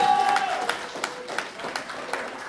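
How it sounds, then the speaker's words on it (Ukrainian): Wedding guests applaud together in a steady patter of many hands, with a few sharper claps standing out, moderately loud and close. "Ну що, молодці, друзі, оплески!"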